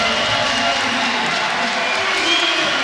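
Spectators at a women's wheelchair basketball European Championship final between the Netherlands and another team, cheering and clapping in a loud, sustained roar that fills the arena for a few seconds.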